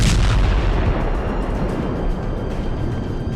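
Explosions from an Israeli air strike on Hezbollah sites, a loud, continuous rumbling blast that opens with a sharp burst and rolls on as dense low booming for several seconds.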